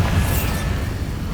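A Bombarda spell explosion in the Hogwarts Legacy video game, a single deep low boom with a rumbling tail that fades over about a second, loud and alone with no voice.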